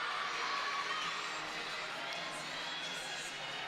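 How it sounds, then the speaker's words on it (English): Fans cheering and shouting for a gymnast on her senior day at an NC State gymnastics meet, a steady roaring crowd that holds loud and continuous throughout. "she's got a ton of fans here cheering for her, rooting her on."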